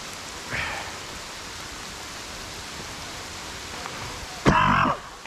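Steady rain hisses outdoors at an airsoft game, a soft, even wash of noise throughout. A brief cough and a louder throat-clearing break in near the start and end.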